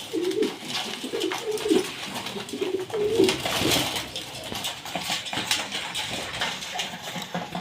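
Domestic pigeons cooing close by in repeated soft, throaty phrases, with shuffling and fluttering noises around them.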